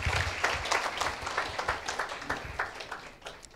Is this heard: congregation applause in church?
yes